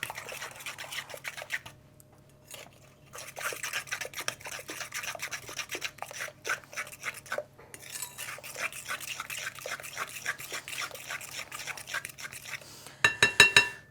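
Spoon stirring a sardine and Marmite dog treat mixture in a bowl, a run of close, irregular scraping and clinking strokes with brief pauses and a final few sharper taps.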